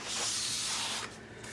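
Sandpaper rubs by hand over a wooden bedside caddy tray in one brief, steady abrasive stroke that fades near the end, up close and alone.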